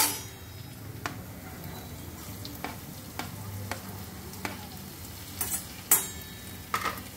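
Green chillies are stirred into a simmering vegetable curry, with a soft bubbling hiss in the background and sharp spoon clinks against the pot at a steady, irregular pace.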